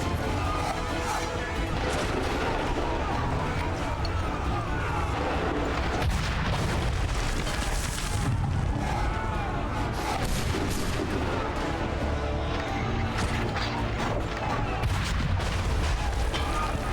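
Cannon fire in a Revolutionary War battle against redcoats in the video game Assassin's Creed III, heavy booms and crashes layered in a dense, continuous loud din of battle with voices mixed in.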